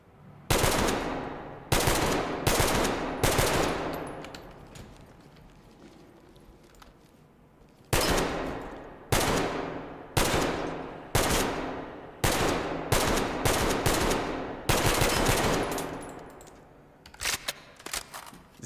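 Full-auto rifle fire in the Ready Or Not tactical shooter, loud close bursts of rapid shots in repeated strings separated by short pauses, with a quieter gap near the middle and no talking.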